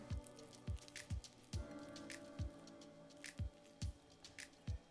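A silicone spatula mixes butter, cream cheese and grated garlic in a bowl, giving soft, wet squishing strokes in a steady rhythm of about two per second, quiet and close.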